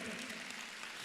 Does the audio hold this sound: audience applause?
yes